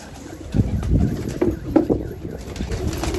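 A Hyderabadi pigeon just caught in a net gives low, soft coos close by, mixed with rustling and handling noise outdoors.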